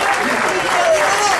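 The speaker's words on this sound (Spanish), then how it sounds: "un aplauso fuerte" Loud applause from a congregation at a church prayer meeting, dense clapping over the full stretch, close and with a voice speaking over it.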